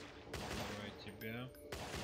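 Gunfire rings out in the video game Zombie Apocalypse, with a few sharp shots spaced across a couple of seconds. The shots are quiet and come with game sounds and tonal effects between them.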